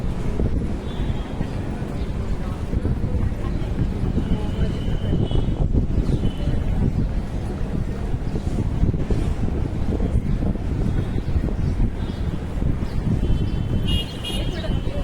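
Evening wind buffeting a microphone outdoors near Inorbit Mall in Vashi, Navi Mumbai, a constant loud low rumble for the whole stretch, with faint traffic and a distant horn behind it.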